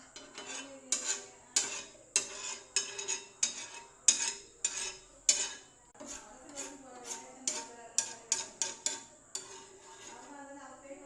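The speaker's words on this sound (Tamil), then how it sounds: "இப்போ கொஞ்சம் கலக்கி மிக்ஸ் போட்டுருவோம்." A spoon stirs and mixes food in a metal pan on a stove, giving a steady run of sharp, close scraping clinks in an irregular rhythm that continue through the whole stretch.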